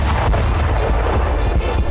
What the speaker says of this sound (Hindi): रशियन लीजन ने बेलगोरोद के बाहरी इलाके में बने रूस के एक हथियार गोदाम पर हमला किया और जबरदस्त धमाके के साथ हथियार गोदाम आग की लपटों में समा गया